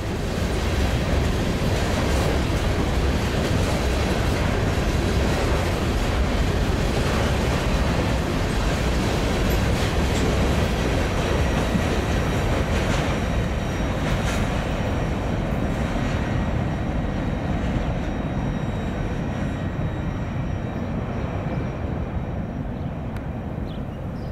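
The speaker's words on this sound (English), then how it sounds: "westbound CN unit train here in Cedar Falls, Iowa." A long westbound CN unit freight train rumbles past up close in Cedar Falls, Iowa, a steady heavy roar of wheels and cars that eases slightly toward the end.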